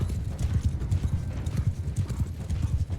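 Horse hooves clip-clopping in a steady, busy rhythm across Bannerlord's medieval battlefield, small pony-sized mounts moving at pace, the trampling close and continuous with faint background noise throughout.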